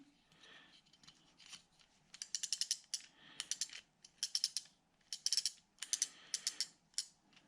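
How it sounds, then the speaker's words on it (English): Anti-reverse ratchet on a Zebco 600 spincast fishing reel with steel gears, clicking close up in rapid bursts of sharp, regular ticks with short pauses between runs, no talking. "But this has got a nice steel gears here. The anti-reverse works good."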